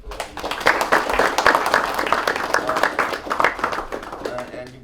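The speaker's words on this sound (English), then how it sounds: "clap it up for us" A basketball team claps together at a season-end gathering, a dense patter of hands at close range running steadily for several seconds, with voices mixed in.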